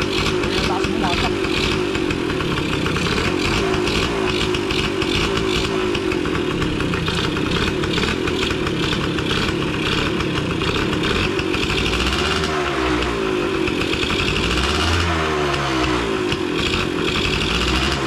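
A 34-year-old Yamaha RS motorcycle engine runs loud and close, with a rough buzzing tone and rising revs near the end, while people talk over it.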